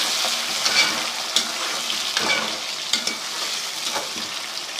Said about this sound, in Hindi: इसमें 2 दरमियाने साइज़ की टमाटर बारीक काट के मैं डाल देती हूँ।